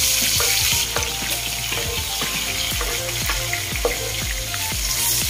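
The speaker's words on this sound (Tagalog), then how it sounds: "using the same pan, ilalagay ko naman yung mga sliced onions" Sliced onions fry in a pan, a dense steady sizzle with scattered crackles and scraping stir sounds throughout, close and fairly loud with no talking.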